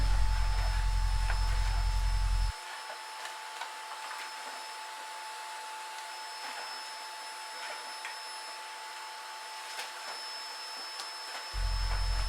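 A big hose blows loose fiberglass insulation into an attic, a steady loud machine roar that drops away after a few seconds and returns near the end, leaving a thinner hiss of air and fibre in between.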